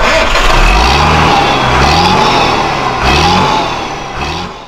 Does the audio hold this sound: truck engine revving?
yes